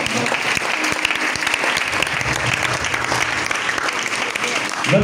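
A church congregation applauds for Jesus Christ with loud, dense, continuous clapping. Voices and cheers are mixed into it throughout.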